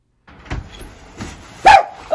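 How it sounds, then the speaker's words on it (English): A dog at home barks at a man, giving four short, loud, close barks in an uneven rhythm separated by brief quiet gaps. "what is he making happen with his barking"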